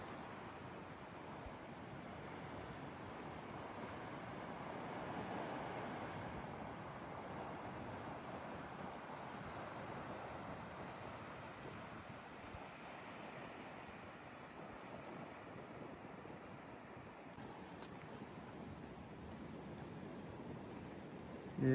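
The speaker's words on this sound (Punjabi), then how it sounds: "ਇਹਦੇ ਛੱਲਾਂ ਘਾਟ ਆਉਂਦੀਆਂ ਤੇ ਇਸੇ ਛੱਲਾਂ ਬਿਲਕੁਲ ਲੋ ਆ" Ocean surf rolling in along the Great Ocean Road coast near the Twelve Apostles, a steady, continuous wash of low waves with wind across the microphone, no voices.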